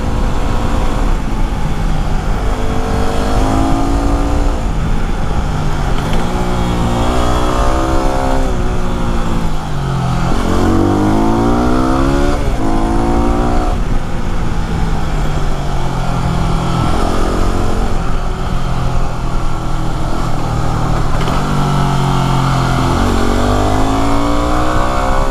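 A Yamaha WR250R motorcycle rides along Big Basin Way on a road toward the national forest, its engine note rising and falling repeatedly through the gears, loud and close under a constant wash of wind noise.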